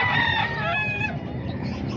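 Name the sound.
White Hatch gamefowl chicken clucking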